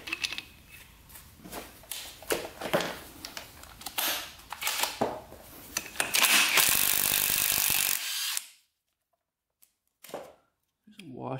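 Ratchet wrench clicking in quick bursts while the flywheel comes off a 1980s Honda CR80 dirt bike engine, close and fairly loud, ending in a sustained rasp before near silence and a brief final knock.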